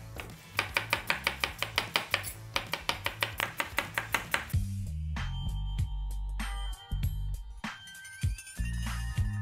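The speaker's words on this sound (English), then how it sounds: "Yeah, so I'm going to slice these onions." A knife chops onions finely on a board in a quick, even rhythm of sharp taps, followed by clattering pans and kitchen handling.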